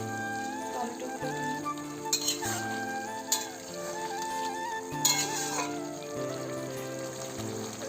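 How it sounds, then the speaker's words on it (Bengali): Chopped tomatoes stirred with potatoes in a pan while cooking aloo chorchori, a soft steady sizzle under repeated scraping and clinking strokes of the spoon against the pan. "আমি একসাথে আবার নাড়াচাড়া করে নিলাম টমেটোগুলো।"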